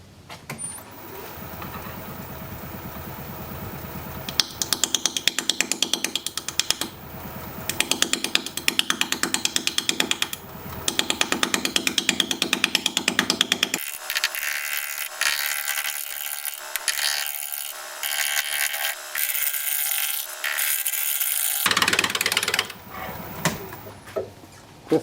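Wood lathe turning a bowl at 560 rpm while a 5/8 inch bowl gouge cuts; a steady mechanical drone with a rough, scraping texture runs throughout, growing harsher and brighter in the middle section.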